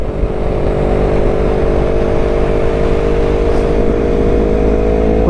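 A 2019 Yamaha R3 with performance mods, ridden while accelerating, heard as a loud, steady, rising engine drone with strong low hum and wind noise throughout, no talk.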